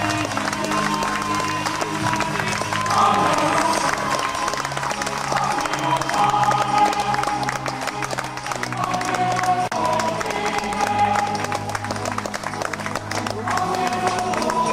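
A race crowd claps and cheers steadily for the winners at the Templiers trail race in 2003, a dense continuous wash of applause lasting throughout, with a voice over the loudspeaker talking faintly beneath it.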